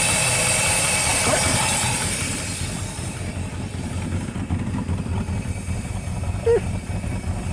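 A 1977 Mercedes-Benz 450SEL 6.9 V8 engine idles steadily with a low, even rumble throughout, holding a constant pace with no revving; a slight exhaust leak is present.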